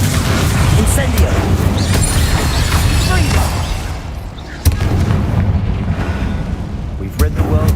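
Incendio fire spell cast in Hogwarts Legacy, a loud burst of crackling, roaring flame and booming mechanical impacts amid busy combat sound, with a sharp crack midway and further bursts near the end.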